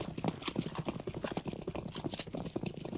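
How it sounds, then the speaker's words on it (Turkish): Footsteps in the video game CS:GO, a quick run of rhythmic clattering steps at moderate distance, with no talk over them. "Ama ayak sesleri de bak."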